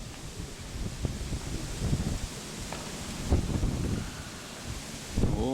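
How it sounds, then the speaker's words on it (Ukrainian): Steady wind rushing through trees, leaves rustling with gusts swelling and easing, some buffeting on the microphone. "хороший вітер, бачите який на деревах"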